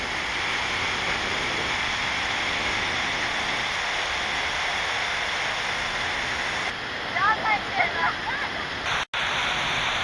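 Loud, steady roar of rushing water throughout, with a voice briefly talking over it near the end.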